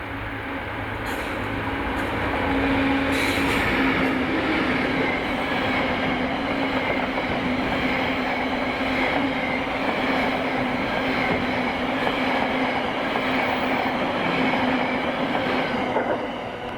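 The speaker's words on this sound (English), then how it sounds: "6M63, the 11:15 from Glen Douglas to Carlisle mod train, throwing up some rather unusual consists again, with 66304 and all green containers" Freight train 6M63, the Glen Douglas to Carlisle service, passes with class 66 locomotive 66304 hauling green containers: a loud, steady rolling rumble and wheel noise with a faint high squeal, continuing for the whole stretch.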